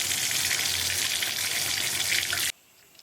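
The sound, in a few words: running water wetting hair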